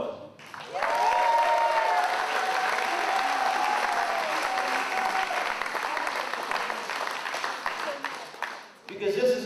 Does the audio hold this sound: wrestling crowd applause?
yes